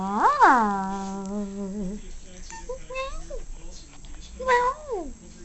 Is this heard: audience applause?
no